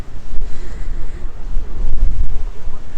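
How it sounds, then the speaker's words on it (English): Breezy sea wind buffeting the microphone on Blackpool North Pier, a loud, gusting low rumble with faint surf beneath, steady throughout. "And you come down here, and it's breezy."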